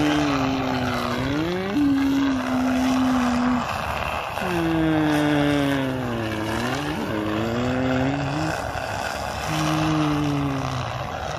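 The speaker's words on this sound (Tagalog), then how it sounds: "tignan mo naman yung saranggola oh. Parang tura-tura yung tunog niya eh." A large kite flown by a riverside in strong wind gives a loud, steady droning hum that rises and falls in pitch with the gusts, continuous and close.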